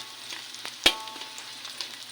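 Garlic and onion fry in a pan with a steady soft sizzle, close up, and a brief louder crackle in the middle; no one speaks.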